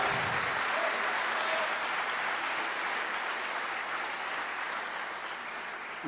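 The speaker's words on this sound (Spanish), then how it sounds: "Den un aplauso al Señor Jesucristo." A church congregation applauds during a Christian sermon: dense, steady clapping fills the room from start to finish and eases off only slightly toward the end.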